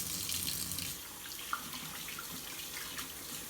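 A kitchen tap runs for hand washing, a steady hissing stream that is strongest at first and then settles lower, with a small clink partway through.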